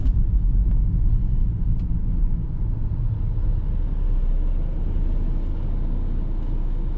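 An old BMW car drives steadily with a continuous low engine and road rumble heard from inside the cabin, fairly loud and unbroken, with no talking.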